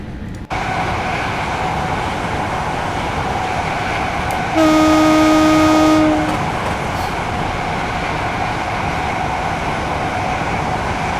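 Train horn sounding in a long, loud steady blast over continuous rail rumble as a train pulls into Harrow and Wealdstone in Train Simulator 2019, with the running noise carrying on before and after.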